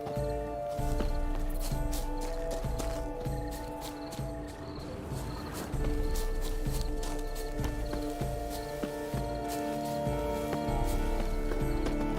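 A horse's hooves clip-clop steadily in The Witcher 3: Wild Hunt, Blood and Wine expansion, heard close over continuous layered game music with faint insect-like ambience.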